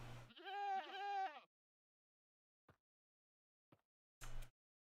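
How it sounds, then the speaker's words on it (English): A goat in the video game Minecraft gives a clear, wavering bleat, followed by a few faint short clicks. A second brief bleat-like burst comes near the end. "Hello, goats?"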